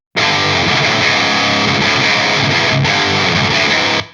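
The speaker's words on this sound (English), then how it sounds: "So again, this is the dual rectifier." An electric guitar runs through a dual rectifier amp capture on a Genome 2.0 modeler, ringing out as one loud, heavily distorted sustained chord for about four seconds before cutting off, with no talking.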